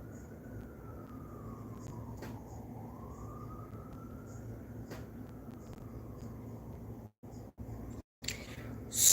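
A wailing emergency siren rises and falls in long sweeps, heard faintly from a distance under a steady background hum, with a few brief dropouts near the end.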